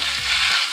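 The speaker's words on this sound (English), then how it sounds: "Now the next thing that we will put is our marinated beef. Let's stir it also." Marinated beef frying in a hot pan, a loud, dense, continuous sizzle with a brief stirring scrape, close up.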